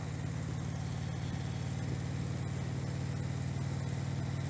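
A Harley-Davidson motorcycle engine rumbles steadily through its exhaust pipes, a constant low, throbbing drone heard up close with no speech.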